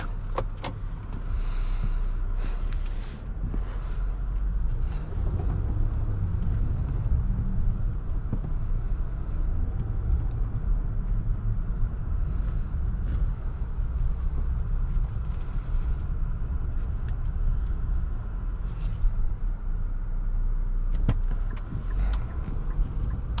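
A 2024 Nissan Pathfinder Rock Creek with a V6 engine, set in sport mode, drives on the road. A steady low engine and road rumble fill the cabin throughout, with faint small rattles and no speech.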